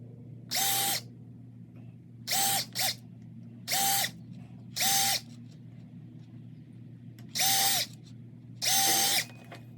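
A handheld power drill bores pilot holes through a template into a workbench leg in seven short, close bursts, each whine starting and stopping sharply, with a steady low hum between them.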